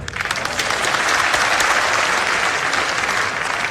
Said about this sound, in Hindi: ट्रांसफरों से भी ज्यादा तालियां बजिए साहब